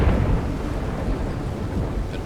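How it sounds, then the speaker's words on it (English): Deep rolling thunder from an approaching storm in the pirate survival video game Windrose, a continuous low rumble that stays loud and steady throughout with no voices. "Bit of a storm rolling in."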